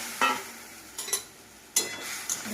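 Boiled potatoes and drumsticks being stirred into fried onion in a pan, with a faint sizzle and a few distinct scraping stir strokes at uneven intervals, no talking.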